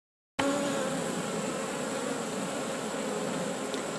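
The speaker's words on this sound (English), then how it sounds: "See, there are more and more bees are coming to this queen cage." A dense, continuous buzz of many honey bees crowding a queen cage close by, steady and loud, starting abruptly after a brief silence.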